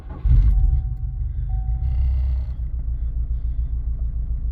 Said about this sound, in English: That's a more normal idle.